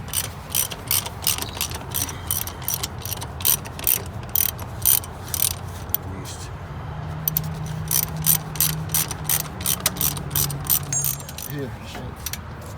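A hand ratchet loosens the transmission mount bolts on a 2009 Chevrolet Cobalt SS during a turbo install. Close, rapid pawl clicking comes in repeated bursts with short pauses, and a voice is heard faintly at times.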